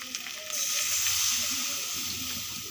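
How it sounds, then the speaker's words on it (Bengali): Meat being bhuna-sautéed in oil for a curry served with khichuri: a continuous close sizzle and hiss with faint stirring, fairly loud and steady over a few seconds, with no voices. "এভাবে ভালো করে কষাইয়া যখন তেল উপরে উঠে যাবে তখন হালকা ঝোল দেবো"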